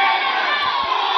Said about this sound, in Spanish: ensordecedor grito por parte de la gente